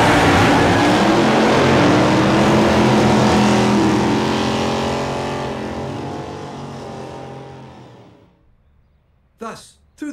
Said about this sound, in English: Oversized tires mounted on long metal rails, supporting a massive, supercharged engine.